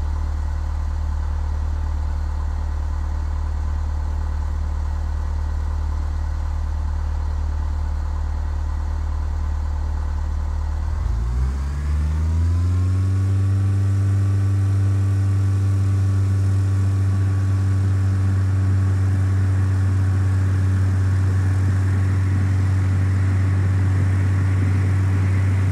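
Small single-engine aircraft in Flight Simulator 2004 idling steadily, then throttling up for takeoff around the midpoint, its engine drone rising in pitch and holding a loud, sustained roar to the end.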